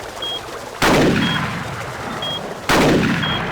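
Two sharp rifle shots crack out in the hunting video game Cabela's Alaskan Adventures, each a loud sudden blast with a fading tail, spaced about two seconds apart over a quiet game background with a faint repeating tone.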